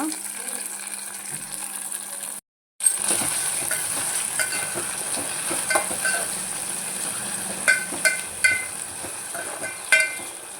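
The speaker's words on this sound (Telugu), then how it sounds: "టమాటా మగ్గాలండి" Two tomatoes cooking down in a hot pan for a raw banana and chana dal curry, giving a steady sizzle with a short silent gap and a few sharp metallic scrapes and clinks from stirring.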